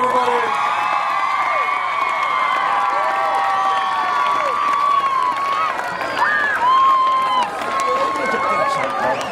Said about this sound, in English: One more time, big round of applause for Freddy Corona, everybody.